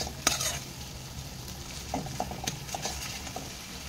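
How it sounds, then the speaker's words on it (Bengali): A spoon stirs and scrapes spice paste frying in oil in a pan for a banana flower and prawn curry, with soft sizzling under intermittent clinks and scrapes, close up and without talk. "আর মশলাটাকে ভালো করে কষাবো যতক্ষণ না তেল ছাড়ছে।"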